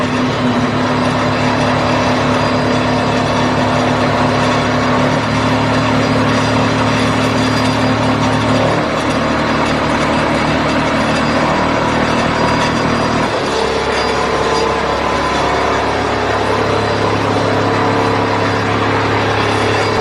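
A homemade free energy motor machine with a three-phase motor runs with its differential hanging unsupported, giving a loud, steady mechanical whir and gear drone with humming tones that shift pitch a few times, close and without talk.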